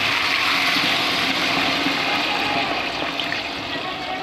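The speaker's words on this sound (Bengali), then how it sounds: "ইঁচড় কষানোর ভিতরে জল দিয়ে দেবো। গরম জল দিয়ে দিলাম।" Hot water pouring into a pan of jackfruit curry being cooked down with potatoes, a steady broad watery rush that runs loud and unbroken for a few seconds with no talking.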